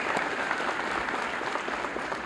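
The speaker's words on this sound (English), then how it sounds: "Let's give those two a round of applause." Applause from a school senior assembly audience for two award-winning seniors, a steady dense wash of many hands clapping at moderate distance, sustained evenly through the whole stretch with no voices on top.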